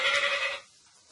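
A mobile phone alert imitating a sheep's bleat sounds once, a short wavering bleat-like tone that stops abruptly, leaving a quiet room.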